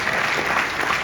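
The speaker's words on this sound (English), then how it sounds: "So give yourself a hand clap." An audience at a luncheon claps in a brief, dense burst of applause, many hands together at a steady level with no talk over it.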